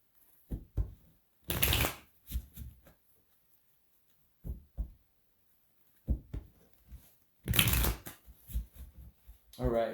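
A deck of tarot cards is shuffled in several quick riffling bursts, close and crisp, alternating with softer taps and handling, while a person talks in between.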